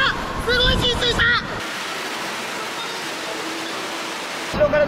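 Water waves surge and wash against a makeshift floating base in a wave pool, a broad steady rushing roar, after a few seconds of talk and shouting over the noise.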